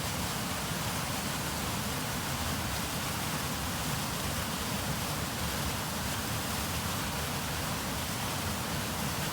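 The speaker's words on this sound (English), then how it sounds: "hear that roar? This is the waterfall, the seasonal waterfall behind the other cabin." A seasonal waterfall behind a cabin roars after an atmospheric river storm in Northern California, a steady, dense rushing wash that holds at an even level throughout with no voices.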